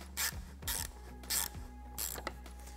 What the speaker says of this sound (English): We're gonna use these with an 11mm socket to go on the studs at the bottom.